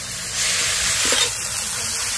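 Raw potato pieces stirred in a hot pan for a flour-and-potato snack give off a steady, close sizzle with a soft scrape of stirring partway through and no talking.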